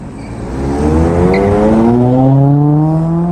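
A car's engine roars close and loud, its pitch climbing steadily as the tires squeal on a street during a nighttime crowd gathering.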